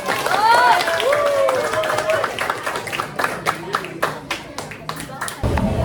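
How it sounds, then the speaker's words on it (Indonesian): Children clap in a classroom during a lesson about religious tolerance. A voice speaks at first, then scattered, uneven handclaps break out and build into quick bursts close by. "Oh, tepuk tangan"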